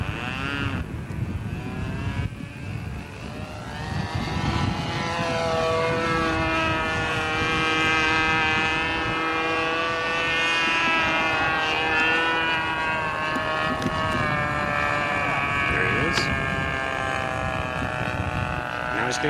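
A radio-controlled model airplane's engine from 1983 buzzes continuously overhead, its high, raspy drone sliding in pitch as the plane is throttled down for a landing approach over a field.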